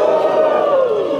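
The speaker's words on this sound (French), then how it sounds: "Applaudissons, applaudissons," A crowd at a youth day celebration cheers and shouts together in a short, dense burst of voices, loud and sustained with no clear individual words.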